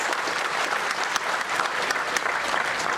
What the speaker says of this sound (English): So can we go for a round of applause for the